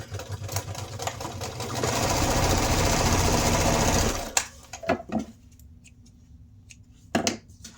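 A sewing machine stitches two pocket pieces together along the top edge, running in a steady, close, buzzing whir for a couple of seconds, then stopping, followed by a few brief clicks and handling sounds.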